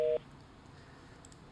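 A telephone line connecting for a live call-in on a Korean broadcast: a short two-tone dialing beep at the start, then a faint, quiet line hum with a couple of soft clicks near the end.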